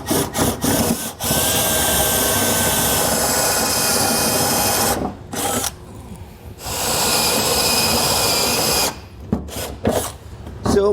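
A power drill bores through the plastic bed liner of a 2019 Ford F-250 Super Duty pickup in long, grinding bursts separated by short pauses, with close rubbing and scraping as the bit works the hole.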